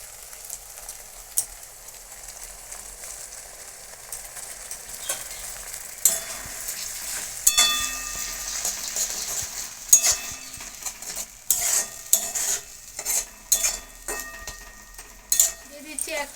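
Tomato paste fries in a pan for soyabean tikka, stirred with a utensil that clinks against the metal now and then; a soft sizzle runs throughout, with the scraping and tapping growing busier in the second half.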